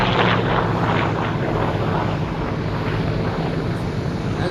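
A propeller-driven FG-1D Corsair fighter flies over an air show near Gatineau-Ottawa, its engine a steady, loud, broadband drone with wind buffeting on the microphone throughout.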